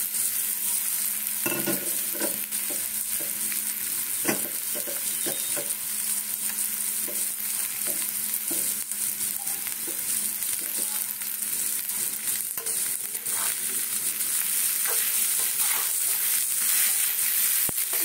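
Continuous frying sizzle fills the clip while a utensil repeatedly scrapes and stirs washed flattened rice in the pan for flattened-rice pulao, in irregular strokes.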